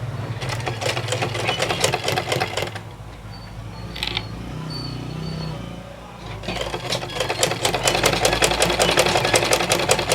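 A sewing machine runs a quarter-inch seam while making a single welt pocket. A fast, even chattering stitch runs up close, stops for a few quiet seconds of handling, then resumes at full speed.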